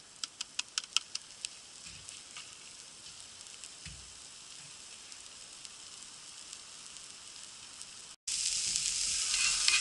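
Onions sizzle in a pan over a campfire, a steady soft hiss with a few sharp pops early on, surging into a louder, brighter fry toward the end.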